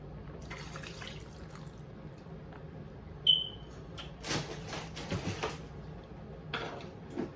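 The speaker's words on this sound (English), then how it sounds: "I'm going to go ahead and add the rest of this juice." Pineapple juice trickles and splashes into a plastic bag of raw chicken, faint, with light liquid patters and crinkles scattered over a quiet room.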